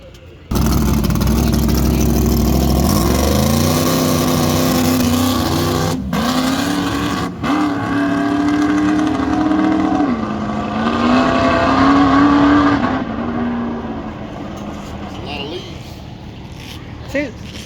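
The drag car Little Gangster runs at 710 Dragway, its engine a loud, steady rumble that shifts pitch as it revs and settles, with voices around it.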